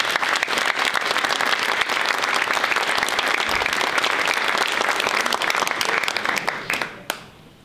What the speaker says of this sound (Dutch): Allereerst vraag ik al applaus voor al die inzet die u.